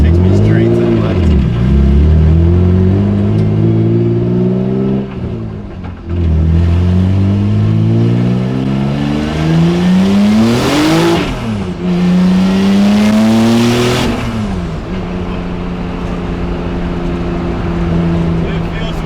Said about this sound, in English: Spinning the wheels, and it just takes me straight to the left.